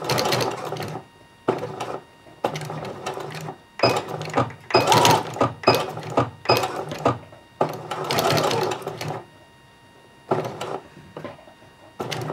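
A sewing machine stitches a bar tack on homemade shorts in a series of short, loud bursts of rapid needle hammering separated by brief pauses, very close with no talking.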